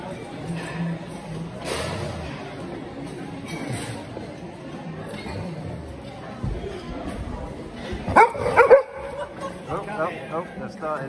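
Large dogs bark and yip outdoors at a busy car boot sale, a few scattered barks mid-distance with a louder burst near the end, mixed under steady chatter and nearby talking.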